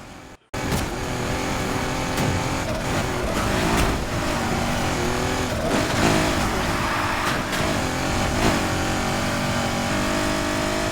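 Race car engine roaring steadily in the Need for Speed Heat game, loud and continuous after a brief quiet start, with rising and falling revs and occasional sharp clacks throughout.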